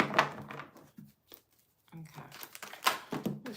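Tarot cards are shuffled by hand in short crisp bursts of riffling and crinkly card noise, separated by brief pauses, with a voice talking between and over the shuffles.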